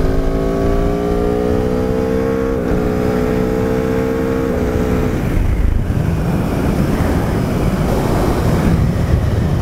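A 2018 Aprilia RSV4RR sport motorcycle engine pulls hard at speed, rising whine with harmonic tones climbing then a shift into a rougher, wind-blasted roar, loud and continuous with no talking.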